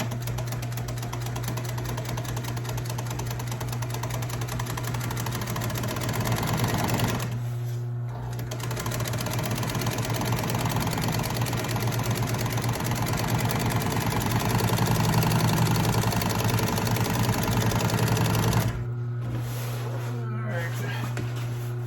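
An upholstery sewing machine runs on and off across upholstery material with a steady mechanical hum and constant stitching chatter, briefly stopping twice, while someone talks over it.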